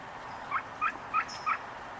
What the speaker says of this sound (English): We have the female wild turkey here.